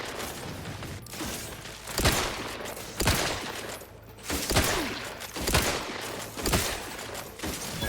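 Pistol gunfire in The Outer Worlds 2, a series of loud, sharp single shots fired at a steady pace of roughly one per second, each with a short decaying tail, over low mechanical game ambience.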